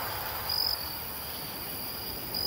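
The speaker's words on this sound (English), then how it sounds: "at night, the crickets stridulate, chirping and singing way past dusk" Crickets chirping at night near a sandbank along the Cuckmere: a continuous high, steady trill with a slightly louder pulse early on and again at the very end, with no voices present.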